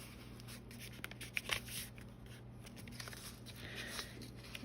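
Vintage envelope paper folded in half and then in half again, soft close crinkles and rubbing creases, faint and intermittent.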